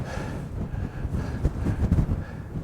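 Strong wind gusts blow across a mountain lake in the Mourne Mountains, giving steady, broad rumbling buffeting with a couple of heavier surges.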